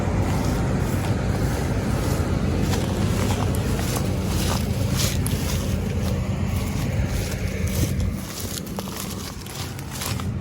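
A tractor drives in to haul grain during the wheat harvest, its loud, steady engine drone rumbling continuously under gusty wind noise before easing slightly near the end.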